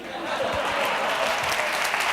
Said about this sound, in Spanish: Un aplauso más fuerte para él.